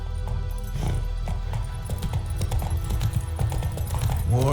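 Roach, Geralt's horse in The Witcher 3, gallops with rapid rhythmic hoofbeats thudding over ambient game sound, steady and close throughout the few seconds.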